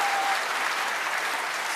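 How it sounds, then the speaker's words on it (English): A studio audience at a television talk show claps in a dense, steady burst of applause, with no voices over it. "And that itself deserves applause."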